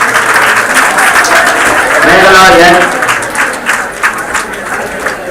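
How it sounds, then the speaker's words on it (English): Applause from the crowd at a college graduation day ceremony in 2015, a steady wash of many hands clapping while a voice over the PA reads out a graduate's name. "You can give your applause"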